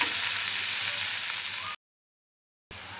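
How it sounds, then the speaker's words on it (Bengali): Onions, garlic and green chilies fry in hot oil with a steady, close hiss and sizzle, broken by a short stretch of complete silence before the frying resumes. "এই যে আমার পেঁয়াজ, রসুন আর কাঁচামরিচগুলো ভাজা হয়ে গেছে।"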